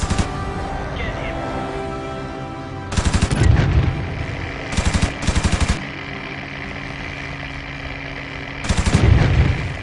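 Machine-gun bursts from a World War II warplane in IL-2 Sturmovik rattle out in short, loud volleys, separated by a droning engine hum and faint voice-over.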